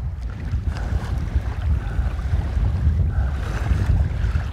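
Wind buffeting a microphone outdoors while fishing, a loud, constant low rumble with a faint hiss above it and no talking.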